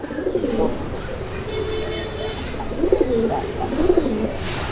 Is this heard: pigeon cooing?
yes